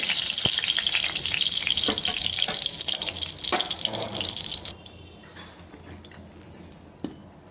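Diced eggplant frying in hot oil with a dense, close, crackling sizzle that drops to a quieter bubbling with scattered pops after a few seconds.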